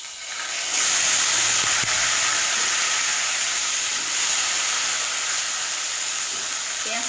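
Onion paste dropped into hot oil for a raw jackfruit and prawn curry, a loud continuous sizzling hiss that swells in after a moment and holds steady with crackly spatter.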